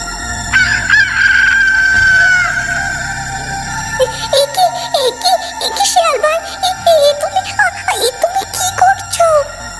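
A rooster crows at the start, then chickens cluck in quick, repeated bursts, fairly loud and close.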